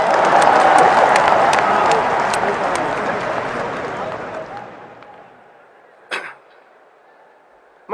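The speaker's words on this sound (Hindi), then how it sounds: "ठोको ताली" A crowd claps loudly and densely during a speech honouring former Prime Minister Manmohan Singh, with the applause fading steadily over about five seconds into near quiet, broken by one brief thump.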